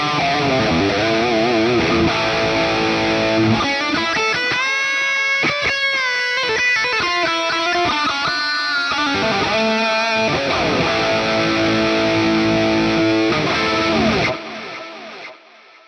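A distorted electric guitar lead tone from a Hotone Ampero II Stage amp modeler plays a sustained lead line with bends and held notes, then cuts off and a brief echo tail fades.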